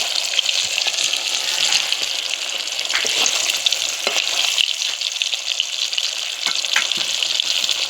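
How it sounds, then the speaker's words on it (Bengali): Lote fish pieces frying in hot oil for a second coat give a loud, steady, close crackling sizzle with bubbling and faint scraping throughout, with no voices. "একবার ভেজে নিয়েছি, আবার সেকেন্ড আর এক কোট ভেজে নেব।"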